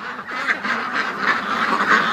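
A wild duck quacks several times in quick, close succession, a short run of raspy calls with no talk.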